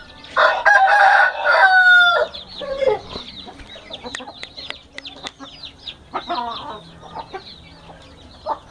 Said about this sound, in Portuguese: Esse galo aqui, ó.